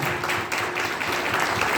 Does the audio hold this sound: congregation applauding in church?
yes